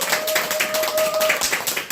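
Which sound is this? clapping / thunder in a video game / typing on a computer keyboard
clapping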